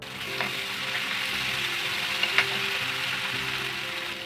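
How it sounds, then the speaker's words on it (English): Ginger garlic paste sautés in a pan with a steady, close sizzle, and a few light utensil clicks stand out near the middle. "paste and saute for 2 to 3 minutes until the raw smell disappears"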